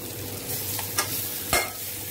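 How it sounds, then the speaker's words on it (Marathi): Soft frying sizzle as capsicum is stir-fried in oil, with a couple of sharp scraping stirs against a pan, steady and close, no voices. "शिमला मिरची चांगलीशी परतून घ्यायची आहे तेलामध्ये"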